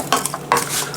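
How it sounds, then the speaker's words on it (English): Vegetables sauté in a pot for chicken soup, a spoon scraping and stirring over a soft sizzle in two quick strokes. "just saute them"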